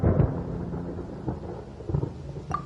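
Rumbling thunder in the Genshin Impact game world, with low booming rolls near the start and again around two seconds, set against a soft stormy background.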